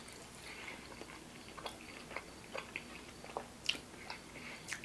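Crispy, crunchy chicken fries from a 24-hour fried chicken spot are chewed close to the mic, with faint irregular crunches and bites spaced through the quiet stretch and no talk over them.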